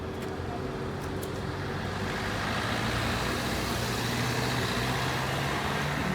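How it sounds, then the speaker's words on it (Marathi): A car arriving along a village road, a loud steady engine and road rumble that builds slightly and holds throughout, with no talk. "गाडी आली, गाडी आली."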